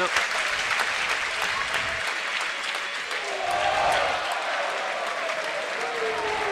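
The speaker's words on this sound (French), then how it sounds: "les applaudissements que vous entendez, c'est pour la table d'à côté avec Félix Lebrun" Applause from a crowd at a neighbouring table tennis table at a French championship, continuous clapping at moderate distance with speech over it throughout.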